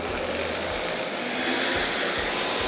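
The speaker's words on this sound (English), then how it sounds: "And you're gonna put the lid on it and you're gonna puree it." A blender whirs loud and steady as it purees cottage cheese into a smooth sauce, the motor note shifting slightly partway through.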